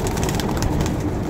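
Several pigeons coo steadily nearby, soft low throaty calls overlapping continuously.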